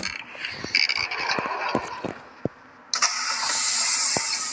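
Bus doors in a bus simulator video game open with a sudden pneumatic hiss that starts partway through and holds steady to the end, after a stretch of engine rumble and scattered clicks.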